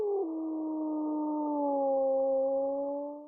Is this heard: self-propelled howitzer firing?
no